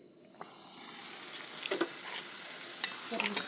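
Food fries on a gas stove with a soft, steady sizzle and scattered crackles and pops, fairly quiet and close, with no voices.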